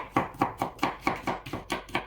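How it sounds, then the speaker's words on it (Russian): A knife cuts daikon radish into thick strips on a board, eight or nine crisp evenly spaced chops in a steady rhythm, close and clear with no talking. "Редьку дайкон режу соломкой"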